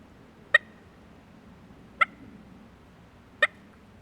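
Three soft, sharp turkey clucks made on a turkey call, evenly spaced about a second and a half apart, each a brief clicky pop over a quiet room background.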